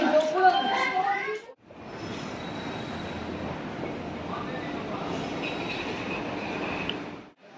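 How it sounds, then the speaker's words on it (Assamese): At a large railway junction station, a train rumbles steadily and fairly close with a grinding, rolling roar that lasts several seconds. A person talks briefly just before the rumble. "চাওক ষ্টেচন জংচন, কি ডাঙৰ জংচন, কিমান ট্ৰেইন আহি ইয়াত জমা আছে"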